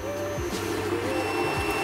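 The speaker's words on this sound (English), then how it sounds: "So this thing's been printing for about" A SunLu S9 Plus 3D printer running a print, its stepper motors giving a steady whine with gliding pitch sweeps that rise and fall as the head moves, continuous and close, with no voices.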